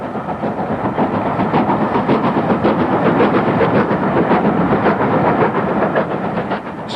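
Steam locomotive working hard up the 1 in 75 gradient to Shap summit near Scout Green, a loud, steady rumbling roar with a fast chuffing beat and rail clatter throughout, close by.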